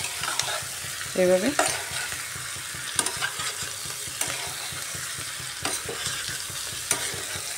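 Onions and potatoes for a chicken curry being sautéed in a pan, a busy close sizzle with steady stirring scrapes and a few sharper knocks of the spoon; a voice briefly speaks.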